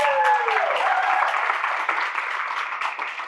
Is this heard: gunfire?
no